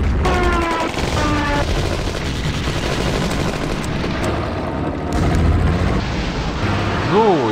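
Rapid gunfire and booming blasts from the World War II strategy game Panzer General 3D fill the clip without pause, with brief rising electronic tones near the end.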